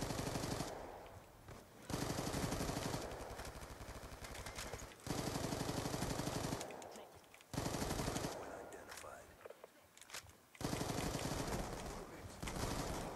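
Bursts of automatic gunfire in Call of Duty Black Ops 2, loud sustained volleys of rapid shots separated by brief pauses over about thirteen seconds, with speech in places.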